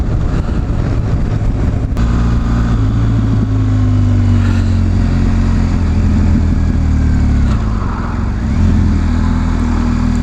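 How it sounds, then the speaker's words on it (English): A 2018 BMW R1200GS Adventure motorcycle engine, loud and close, pitch rising and falling through gear changes with a continuous rumble and faint popping from the exhaust. "It's the exhaust as you're going up and down the gears, the little pops and bangs you get."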